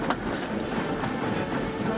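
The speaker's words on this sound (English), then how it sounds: "all Wilbert had to do was to push them into the dairy siding" Rolling train wagons clatter steadily as a steam engine pushes milk tanker wagons into a dairy siding, a continuous close rumble with faint clickety-clack and no voices.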